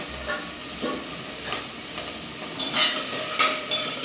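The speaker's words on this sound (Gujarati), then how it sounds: "જીરાનો મસ્ત વઘાર કર્યો છે તેલ મૂક્યું છે" Cumin seeds and green chilies sizzle in hot oil for a tempering, a constant bright crackling hiss with a few scraping stirs toward the end, heard close up and alone.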